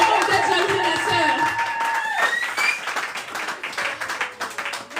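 A church congregation applauding and clapping together in steady, dense rhythm, with voices and a sung or sustained tone over it at first, the clapping continuing loud and close throughout.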